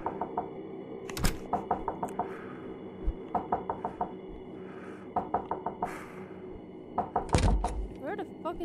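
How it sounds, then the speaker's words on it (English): Knocking in a scary video game, with repeated bursts of three or four quick raps recurring every second or so, mixed with a few heavier thuds and faint background ambience. "Where the fuck is this knocking coming from?"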